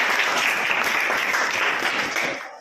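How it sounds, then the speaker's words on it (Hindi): Children clap together in a classroom during a general knowledge quiz, a dense, steady burst of many hands close by that fades out at the end. "ताली बजाओ।"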